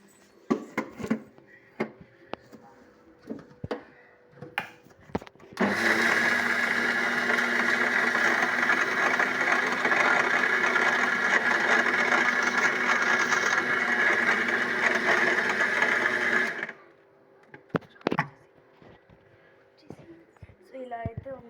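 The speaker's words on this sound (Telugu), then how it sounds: "సో మళ్ళీ మనం మిక్సీ జార్ అయితే చేయాలి." A kitchen mixer grinder jar whirs steadily for about eleven seconds while grinding a peanut laddu mixture with ghee, a loud continuous motor drone that starts and stops abruptly, with faint clatter and handling noises before and after.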